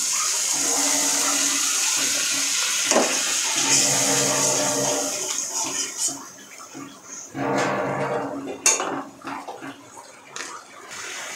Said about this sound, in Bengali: দিয়ে দেব সামান্য পরিমাণে জল।